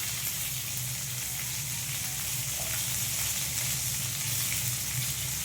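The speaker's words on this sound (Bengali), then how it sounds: "ভালো করে মশলাটা ভাজা হয়ে গেছে।" Masala with red chilli, coriander and cumin powder frying in a pan, a steady, moderate sizzle with a crackling hiss running evenly throughout and no voices.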